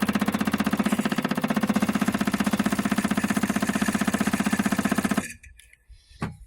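A Daimler 250 V8 engine runs steadily with a fast, even pulsing beat, loud and close for about five seconds before cutting off abruptly, leaving a few faint clicks.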